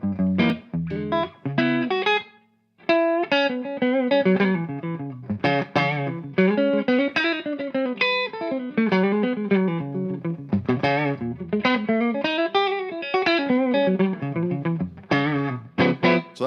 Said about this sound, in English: So that's the amp, kind of cleanish.